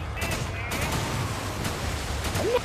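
Bursts of gunfire ring out in the video game Resident Evil 5, with rapid shots over a busy background of game noise and a faint voice near the end.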